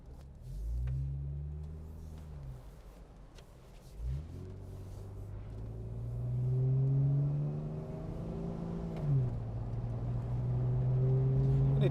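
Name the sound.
Jeep Wrangler Sahara accelerating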